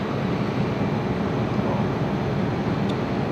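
The cooling fan of a high-power laser cleaning machine whirs in a constant, even rush of air, fairly loud and close, with no voices.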